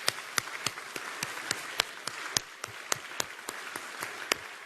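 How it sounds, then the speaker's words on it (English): Scattered applause from a modest crowd at an industry planning briefing, sharp individual claps repeating irregularly throughout, fairly quiet and without voices. "give them all a round of applause."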